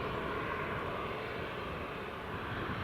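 A German Air Force aircraft flying near Newcastle International Airport, a steady, broad engine roar heard outdoors that stays fairly loud throughout, with no talking.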